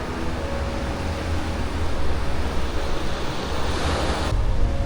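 Ocean waves wash up onto a Playa del Carmen beach at high tide, a steady loud roar of surf with wind buffeting the microphone throughout, swelling slightly toward the end.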